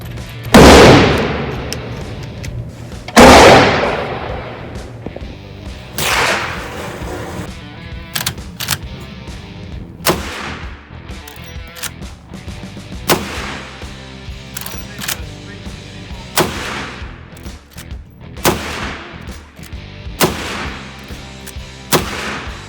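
A rifle fires at an outdoor shooting range, sending loud, sharp reports out one by one, about eight to ten shots spaced a few seconds apart, each ringing out briefly with no voices over them.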